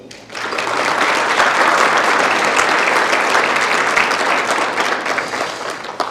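An audience at a State of the City address breaks into applause, swelling quickly to a loud, even roar of many hands clapping and holding steady before easing slightly at the end.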